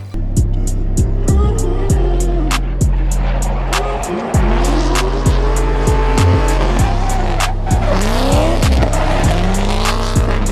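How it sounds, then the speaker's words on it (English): A race car in a racing video game skids through corners, its tires squealing in long sliding whines over a loud steady engine drone, with engine notes rising and falling as it is thrown sideways. "the front end will skid back around with enough momentum"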